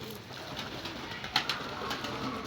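Pigeons coo softly in a rooftop loft, a few low, faint calls over steady background hiss.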